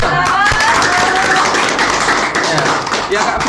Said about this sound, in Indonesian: Tepuk tangan dulu kan.